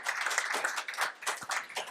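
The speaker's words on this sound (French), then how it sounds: "vous pouvez l'applaudir aussi dans son parcours" Conference audience applauding in Lille, a dense burst of clapping from many hands that holds steady for a couple of seconds, fairly close and loud, with no speech over it.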